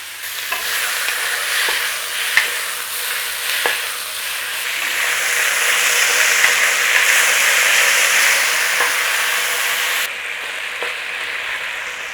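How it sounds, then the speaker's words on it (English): Beef sears in an Instant Pot liner with a steady, loud sizzle and frying hiss, broken by occasional clicks and stirring scrapes; the sizzle swells midway, then drops abruptly near the end. "get a good sear around your beef"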